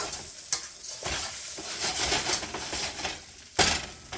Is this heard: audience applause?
no